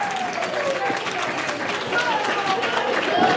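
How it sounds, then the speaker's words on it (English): Independent wrestling crowd roars and claps after a coast-to-coast drop kick, a broad sustained cheer that swells toward the end, heard under an excited commentator talking over it. "Drop kick, and the crowd goes crazy for Tyler Matrix."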